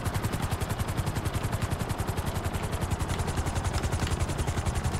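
A fast helicopter in the video game GTA Cayo Perico, with a loud, steady, rapid rotor chop that thumps evenly throughout.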